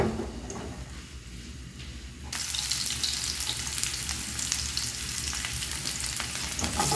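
Garlic dropped into hot oil gives a sudden loud sizzle partway through, then a steady crackling fry with faint stirring scrapes, following a quieter low-sizzle opening.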